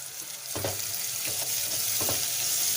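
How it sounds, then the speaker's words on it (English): Onions frying with salt in a pan for a lamb stew, a steady close sizzle broken by a few spatula stirring strokes. "Keep stirring until you see that onion is soft and becomes little"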